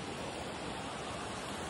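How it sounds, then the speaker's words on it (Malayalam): A forest waterfall and flowing stream near Suryanelli, Munnar, give a soft, even rushing wash of water heard at some distance, with no voices. "പോകുന്നോറും വെള്ളത്തിന്റെ ഒച്ച കൂടി കൂടി വരുന്നുണ്ട്"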